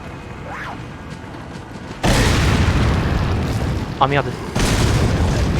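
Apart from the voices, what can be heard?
grenade explosions in the video game Resident Evil 4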